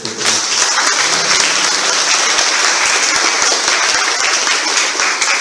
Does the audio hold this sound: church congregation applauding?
yes